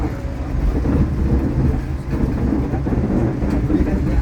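Steady low rumble of an economy-class passenger train in motion between Malang and Surabaya, a continuous rolling drone with faint rattling, heard from inside the carriage.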